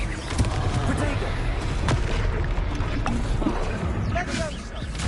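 The Confringo blasting spell in Hogwarts Legacy goes off as a series of booming game explosions and impacts amid busy combat effects, with a voice heard in the mix.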